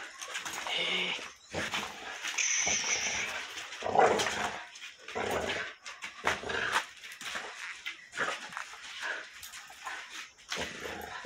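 A frightened dog, scared of fireworks, growls and grumbles in low, uneven bursts close by, with a few whimpery yelps and rustling between them.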